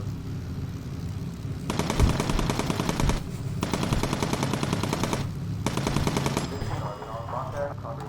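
Machine gun fire from the bombers' turrets in the cartoony WWII video game Bomber Crew, set over 1942 Britain: loud sustained bursts of rapid automatic shots in three long volleys with short gaps, over a steady engine drone.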